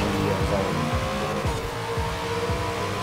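A Dodge Charger muscle car drives in Forza Horizon 4, its engine a loud, steady rumble with rising and falling revs and a hint of tire noise, close and continuous throughout.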